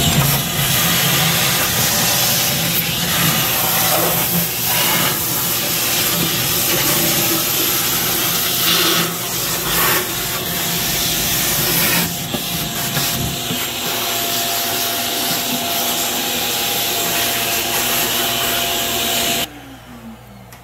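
A vacuum hose sucks loose sand out of a used aquarium, a loud continuous roaring whoosh with gritty rattling that shifts slightly in tone and drops in level near the end.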